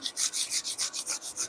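Hand sanding a curved wooden bunk rail with quick, even back-and-forth strokes, about eight rhythmic raspy swipes in a second and a half, close and alone.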